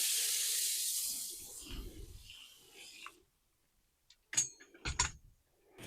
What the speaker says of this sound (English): I'm going to just gently water this compost before I put them in.